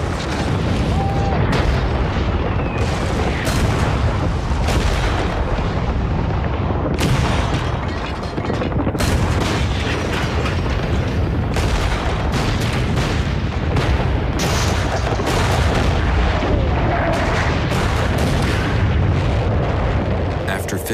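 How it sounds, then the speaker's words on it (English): A WWI British artillery barrage pounds away, a dense rumble of shell bursts and booms rolling continuously for the whole stretch, loud and layered, with a narrator's voice running over the bombardment. "the British artillery unleashes a barrage of 4 million shells, four times more than in the Battle of the Somme"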